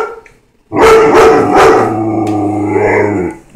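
A dog barks loudly up close, three sharp barks in quick succession followed by a drawn-out, howling whine.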